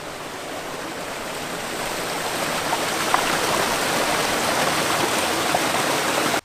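A river flows along a sandstone trail at Cougar Creek, giving a steady, loud rushing wash of water that stays close and constant throughout, with no voices.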